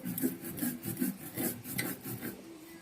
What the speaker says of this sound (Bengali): জিরেটা যে ড্রাই রোস্ট করে রেখেছি ওটাকে ভালো করে গুঁড়ো করে নেবো